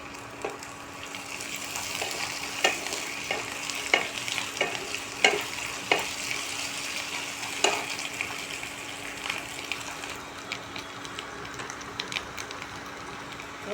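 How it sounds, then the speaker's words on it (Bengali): Grated ginger fries in oil in a pan with a steady close sizzle. A spoon gives repeated scraping stirs and taps over the hiss, and no one speaks. "এই যে আদাটা গ্রেট করে রেখেছিলাম দিয়ে দিলাম"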